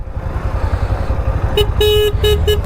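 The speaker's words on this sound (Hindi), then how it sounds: "हॉर्न दे रहे भाई, हॉर्न देंगे" Motorcycle horn honking in short repeated toots, four bursts in the second half, over low engine idle rumble at a roadside drag race lineup of a Bajaj Pulsar NS 125, Hero Xtreme 125R and KTM RC 125.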